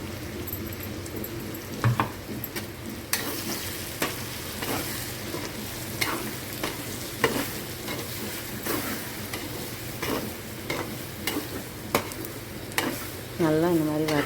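Ivy gourd (kovakkai) sautéing in a pan with ground spice powder, a steady frying sizzle broken by repeated scraping stirs of a spatula, close and moderately loud, with a short faint voice near the end.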